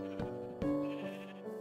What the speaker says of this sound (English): Get out of my way, sheep.